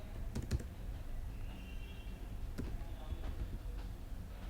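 Quiet computer keyboard typing a date into an Excel sheet, a few soft clustered keystrokes and clicks spaced out over a low room hum.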